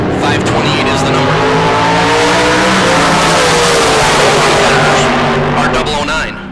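A dragster in a bracket drag race accelerates with a loud, close, continuous engine roar and rising pitch, under an announcer's talk.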